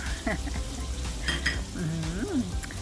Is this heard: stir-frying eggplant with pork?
yes